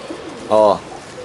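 Domestic pigeons of mixed fancy breeds coo once in a single short, harmonic throaty burst, close and clear over faint background noise.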